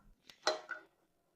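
Metal cans of cheeseburger are set into a saucepan lined with a towel, giving a couple of brief, soft clinks and knocks up close in an otherwise quiet moment.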